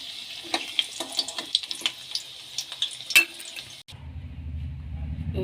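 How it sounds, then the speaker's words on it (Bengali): Potatoes frying in a wok for a mutton curry give a soft, crackling sizzle with repeated sharp scrapes and clinks of a utensil, followed by a brief lower gushing sound like running water. "যে আলুটা ভাজা হয়ে গেছে আর তুলে নেবো"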